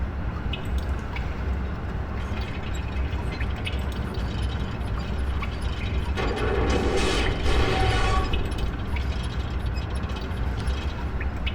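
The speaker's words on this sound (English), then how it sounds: "It looks like there's actually teeth on top of this wheel, and they're trying to grab some other moving teeth here" Gear teeth grinding and failing to mesh on a wheel inside a hydro-electric power machine in Myst III, a steady mechanical clatter and ratcheting with a harsher surge of grinding midway, continuous and close, no talk.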